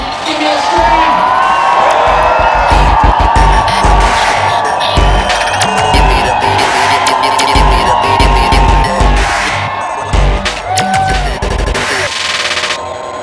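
A large crowd at the homecoming arrival of a Malaysia Airlines Airbus A380 screams and cheers loudly and continuously, with sharp bursts and whoops throughout.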